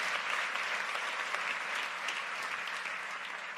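A church congregation claps during an evening sermon, a steady wash of applause from many hands holding evenly throughout with no voices over it.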